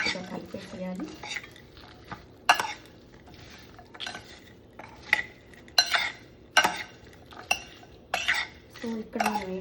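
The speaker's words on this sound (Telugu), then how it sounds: "తర్వాత ఒక స్పూన్ తీసుకొని పైకి కిందకి మొత్తం నీట్గా కలిపేసేయాలి" A spoon scrapes and clinks against a microwave-safe dish while okra is stirred together with a fried tempering. The strikes come in an irregular series of sharp, close taps, and a faint voice is heard briefly.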